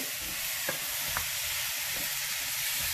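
Ingredients sizzling in a pan over low heat while being stirred for an Indian recipe, a constant loud frying hiss with a few faint scrapes of the spoon, close and without talk.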